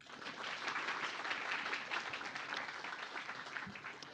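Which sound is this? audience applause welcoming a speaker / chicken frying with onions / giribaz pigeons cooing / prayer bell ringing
audience applause welcoming a speaker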